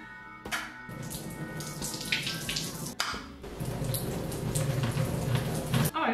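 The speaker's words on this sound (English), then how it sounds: "I'm gonna prepare by draining the chickpeas." Canned chickpeas being drained in a kitchen sink, a continuous close splashing gush of liquid and water with brief clatters and a short break partway through; no voices.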